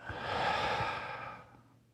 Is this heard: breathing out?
yes